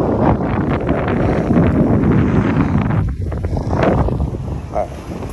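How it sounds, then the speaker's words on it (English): Strong wind roars across the microphone outdoors on a small boat, a continuous blustery rush with brief dips, close and loud. "Because it got windy out, we're strapping all this down."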